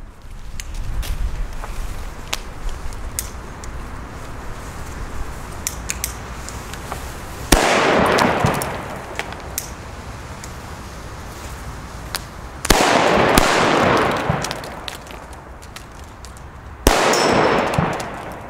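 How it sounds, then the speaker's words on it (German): Funke D firecrackers from the previous year explode one after another, three sharp loud bangs spaced several seconds apart, each with a brief crackling decay, heard outdoors over faint background rustling and shuffling. "Wir fangen an mit den Funke D vom letzten Jahr."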